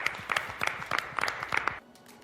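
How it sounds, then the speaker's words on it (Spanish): A small group claps for a seven-year-old girl's presentation, quick uneven hand claps that stop abruptly, with a few faint voices mixed in. "Te mereces un aplauso, Mía, bravo"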